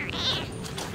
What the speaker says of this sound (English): There's a cat nearby.